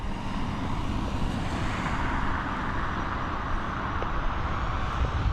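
Ryanair airliner departing Dublin Airport for Barcelona, a steady broadband jet engine roar holding loud and even throughout, with deep low rumble beneath and no voices.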